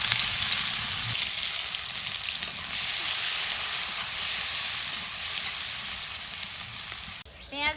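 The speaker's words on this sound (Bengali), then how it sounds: "এবার আমি দিয়ে দেবো পেঁয়াজ কুচো।" Chopped onion fries in hot oil in a kadai, a steady, dense sizzle holding close and loud throughout with a brief clatter near the end.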